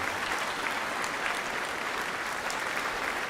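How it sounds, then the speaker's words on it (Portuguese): Congregation in a church service for a television program applauding steadily, a dense, even wash of clapping at moderate distance with no speech over it. "vamos aplaudir ao Senhor Jesus por cada vida que está chegando"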